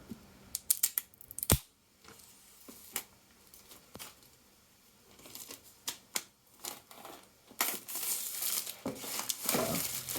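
The tear tab on a sky-blue iPad Air 4 box is pulled open, giving a series of sharp close cardboard rips and crinkles, irregular short bursts ending in a longer tearing stretch, with no talking.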